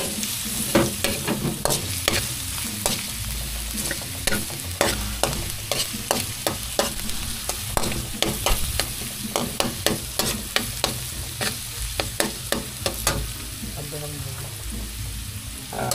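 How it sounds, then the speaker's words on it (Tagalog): Onion and garlic sauté in a pan for leftover chao fan fried rice, a steady loud sizzle broken by frequent sharp scrapes and clacks of a spatula stirring, continuing throughout with no talk. "Antayin natin na magkulay brown yung ating sibuyas at bawang bago doon natin nilagay ang ating mga ricado."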